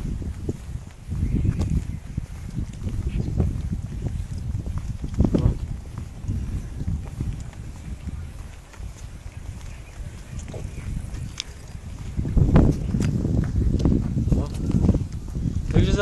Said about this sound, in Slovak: fúka tu vietor, tak asi ten počuješ.